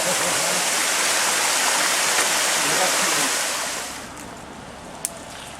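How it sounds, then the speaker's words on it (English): Cataract Falls waterfall in a park roars as a loud, steady broadband rush of falling water, easing off and growing quieter toward the end with a single brief tap. "Great things about this park is Cataract Falls"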